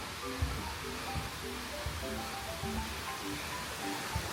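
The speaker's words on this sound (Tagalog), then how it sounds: "Parang may ilog." A river flows steadily through Kokoen Garden in Himeji, Japan, giving a constant broadband rush with soft low gurgles, moderately near and with no one talking.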